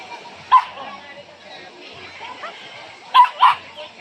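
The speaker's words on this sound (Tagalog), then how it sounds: "Hala, sige tahol." A dog gives one short yip, then two quick barks a few seconds later, against a busy outdoor background with a faint voice.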